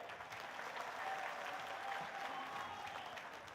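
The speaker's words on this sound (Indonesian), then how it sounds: "Tepuk tangan untuk beliau." An audience at the National Farmers and Fishermen Week event in Indonesia applauds President Prabowo Subianto, a dense, even roll of clapping from a large crowd that swells slightly and then eases off.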